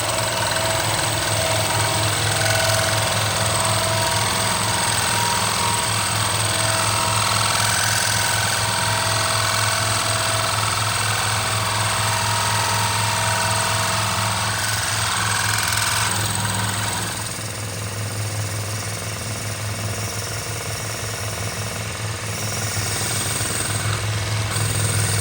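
A drill bores steadily into a woolly mammoth tooth blank held on a paper plate, a loud continuous grinding whine with a low vibrating hum that runs for the whole stretch and eases slightly near the end.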